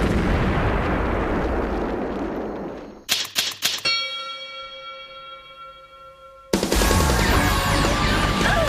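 A noisy rumble gives way to sharp clicks and a ringing metallic tone, then a sudden loud cartoonish blast from an anime magic pumpkin cannon bursts in and roars on.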